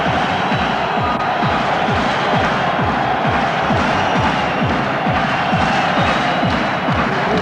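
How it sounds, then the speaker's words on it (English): Dense crowd noise fills a jam-packed boxing arena before a Steve Collins vs. Nigel Benn fight, a steady loud roar of chatter and murmur with no break, heard up close and all around. "judging by the size of the crowd here, jam-packed full at the 9X Arena"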